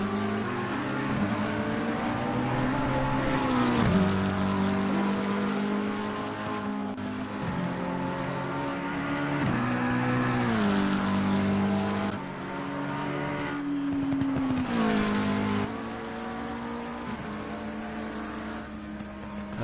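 A purpose-built GT3 McLaren race car in a racing video game at Mount Panorama, its engine revving up and down through gear changes, loud and continuous with shifting pitch, and no talk over it.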